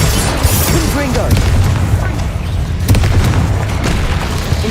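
Repeated booming spell blasts from Confringo and Bombarda in the Hogwarts Legacy video game, loud bursts and crackling impacts layered with voices shouting over the game action.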